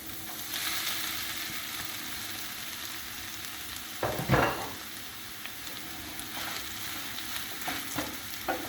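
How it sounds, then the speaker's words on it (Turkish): Potatoes sizzle and fry in oil with spiced onions and tomato paste, a soft continuous crackle broken by a few clattering stirring sounds from a utensil in the pan. "Bu aşamada artık patateslerimizi ilave ediyoruz."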